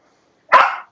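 A dog gives a single sharp, loud bark close by, short and alone against silence.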